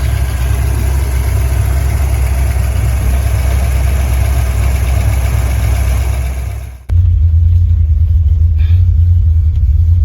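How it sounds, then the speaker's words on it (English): 1976 Corvette V8 with a mild cam rumbling steadily while driving, a loud, deep, continuous exhaust drone that abruptly changes to a lower, throatier thump near the end. "You hear that cam thumping? It's nice and mild, good enough. Exhaust sounds good."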